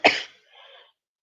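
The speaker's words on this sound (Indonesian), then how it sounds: "ada batuk sedikit" A woman coughs once, sharp and close, and a softer breathy follow-through trails after it, then silence.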